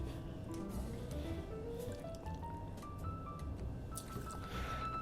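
Herradura Blanco tequila is poured into a one-ounce measure for a Death Flip cocktail, a steady close trickle whose pitch climbs as the vessel fills, running for about five seconds with no talk.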